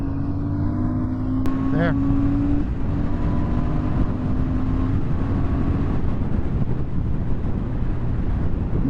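A 2024 Royal Enfield Super Meteor 650 motorcycle accelerates from 0 to 60, its engine note climbing through the gears under heavy wind rush, with a brief spoken word near the start.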